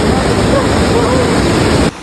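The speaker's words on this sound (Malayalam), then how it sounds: "വാട്ടർഫാൾസ് ആയിട്ട് കൊണ്ടുവന്നതാ." A waterfall in Kerala roars as a loud, steady wash of rushing water close by, cutting off abruptly near the end, with no voices over it.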